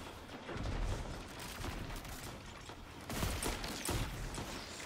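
Rapid bursts of gunfire from Destiny 2 rattle on steadily at a fairly loud level, thickening into a heavier volley a little past the middle with no talking over them.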